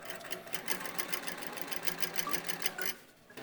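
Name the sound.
sewing machine running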